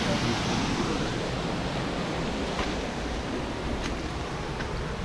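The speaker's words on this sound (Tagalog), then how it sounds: "Ang lakas ng agos dito ng tubig mga kalahi." A strong current of water rushes through a carved hole in rock, a steady, loud, close roar of flowing water that holds even throughout, with no voices.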